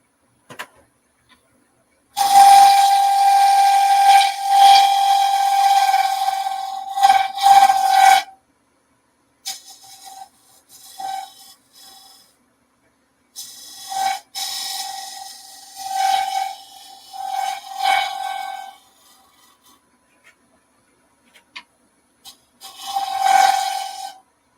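Green maple bowl spinning on a lathe as a negative rake spear point scraper cuts the rim, a loud rasping scrape with a high whine in bursts, then shorter, fainter touches of the tool separated by pauses.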